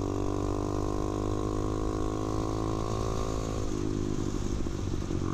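A motorcycle engine runs steadily at a loud, close, constant drone, easing into a lower, rougher rumble near the end as the rider rolls off the throttle going into a turn; no talking.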